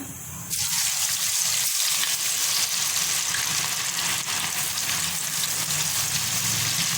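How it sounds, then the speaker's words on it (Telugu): Ivy gourd (dondakaya) pieces deep frying in hot oil, a steady, loud, bubbling sizzle that surges at the start and holds close and even throughout, with no talking. "ఇప్పుడు మనము దీన్ని డీప్ ఫ్రై చేస్తాం"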